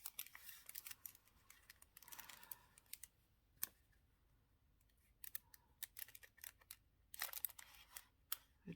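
Scissors trimming the edges of a handmade paper mini journal, with a run of quiet crisp snips and paper rustles that come in clusters with pauses between them.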